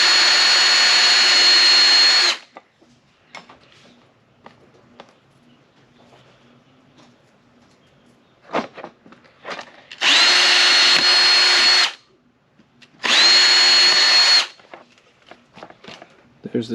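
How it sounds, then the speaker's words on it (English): A power drill bores holes through a plastic rear fender on a Kawasaki Versys X motorcycle, running in three loud, close bursts of about two seconds each, separated by quiet gaps with small knocks and handling noises. "just drilling through plastic, real easy."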